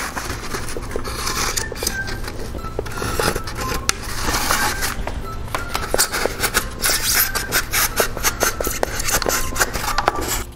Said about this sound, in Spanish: Y cortarle con el cúter.